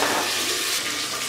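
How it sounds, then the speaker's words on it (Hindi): Onions sizzle in hot cooking oil for a mutton paya (goat trotters) curry, giving a steady, loud, close frying hiss with no talking over it. "ऑयल हमारा गर्म हो चुका है, अब इसमें डालते हैं प्याज और इसको भून लेंगे।"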